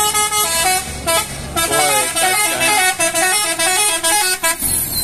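A medium bus on the West Sumatra to Jabodetabek route honks at the Muara Bungo bus terminal, sounding a loud, melodic multi-tone horn tune that plays continuously for several seconds, close and dominant.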